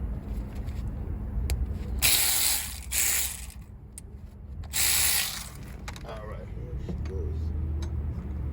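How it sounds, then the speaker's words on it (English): Ratchet and socket running out a rear brake bolt on a 2008–2015 Mercedes-Benz GLK 350, with a few loud bursts of rapid ratcheting clicks over a steady garage hum. "Now I can use my socket to run it out."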